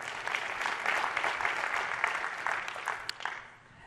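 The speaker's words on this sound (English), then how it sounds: "So applause for him." Audience applause at a tech talk on continuous integration with Xcode 6, steady dense clapping filling the room for several seconds before tapering off at the end.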